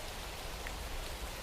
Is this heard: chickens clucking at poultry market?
no